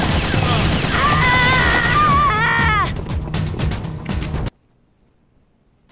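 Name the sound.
gunfire in the video game Metal Gear Solid: The Twin Snakes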